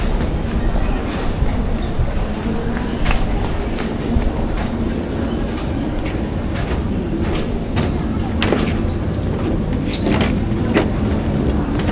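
A train in Germany rumbles steadily throughout, with clattering wheel noise and occasional sharp metallic clicks over a continuous low roar, close and fairly loud, with some voices faintly in the background.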